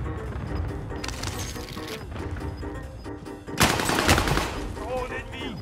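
Rapid bursts of nail gun fire in the online shooter Warzone, with dense crackling shots that swell louder near the end amid general game noise.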